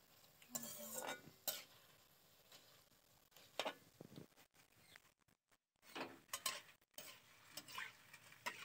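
Faint sizzling of gram-flour batter strands (jhuri) frying and puffing in oil, broken by intermittent bursts of hiss and light clinks of a utensil stirring, quiet and close.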